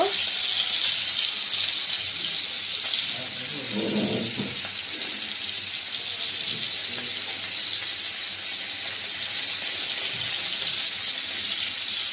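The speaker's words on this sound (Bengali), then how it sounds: "মাছটা ভাজা হয়েছে, উল্টাই দিব" Sea fish sizzles and crackles in hot oil in a pan with a constant bright hiss, while a voice murmurs briefly in the middle.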